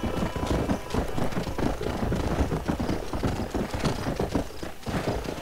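Horse galloping in Red Dead Redemption, a steady rapid clip-clop of hooves running close and loud throughout, with a brief whinny among the hoofbeats.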